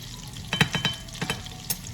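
Cod fillets pan-searing in lemon garlic butter while being basted: a low steady sizzle broken by a handful of soft spoon clinks and scrapes against the pan, close by.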